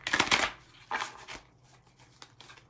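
Tarot cards being shuffled by hand: a few quick riffling bursts, then softer scattered taps and slides, close and fairly quiet.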